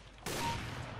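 Gunfire in Counter-Strike: Global Offensive erupts suddenly as a loud, dense burst of shots that keeps roaring on without a break.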